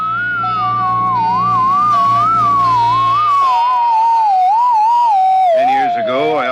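Radio interference whistle jamming a channel: a continuous, loud, warbling tone that slides up and down in pitch for several seconds, with a low hum underneath that drops away partway through.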